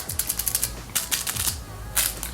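Crinkly, crackling rustles come in quick clustered bursts as a crinkly dog chew toy is squeezed several times in a row.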